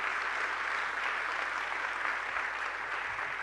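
A church congregation claps in a steady, continuous wash of applause, fairly distant and soft, with no break or change over a few seconds.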